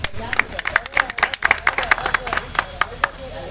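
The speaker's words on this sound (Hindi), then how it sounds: "बताइए, ताली नहीं बजाओगे आप लोग?" Crowd at a farmers' fair clapping in a village gathering, sharp uneven hand claps that grow into a rhythmic patter, close and loud over background crowd noise.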